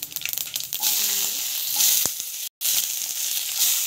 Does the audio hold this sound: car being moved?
no